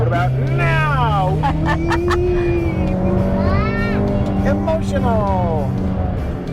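A 2020 Ford Mustang engine runs with a steady low hum beneath people talking close by, the note shifting slightly as it goes.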